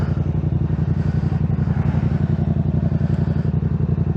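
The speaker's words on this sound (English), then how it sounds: "first is the MT-07 689cc inline twin" Yamaha MT-07 motorcycle with a 689cc inline-twin engine, idling or riding at steady revs, a loud, close, even throbbing pulse that runs without a break.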